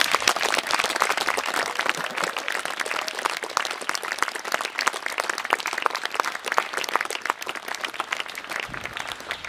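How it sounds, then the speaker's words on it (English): Audience applause for Sir Peter Snell at a tribute evening: dense, sustained clapping from a full room, steady and fairly loud throughout with no talk over it. "let's break the silence by making as much noise as we can with a hearty round of applause for Sir Peter Snell"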